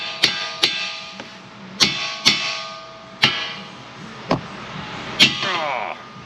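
Sharp metallic hammer blows on a socket set over a cotter key at the outer tie rod end in a 2011 Toyota RAV4 steering knuckle: about nine close, loud strikes at uneven intervals with ringing decay between.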